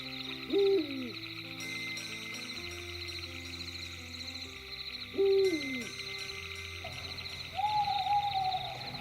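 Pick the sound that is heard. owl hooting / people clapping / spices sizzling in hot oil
owl hooting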